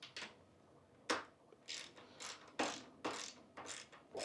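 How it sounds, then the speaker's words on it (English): A socket wrench ratchets a 7mm bolt tight on a tailgate ski lift, giving about eight short, crisp clicking strokes in an uneven rhythm, close and fairly quiet. "we're gonna have to put the socket on here to spin this tight"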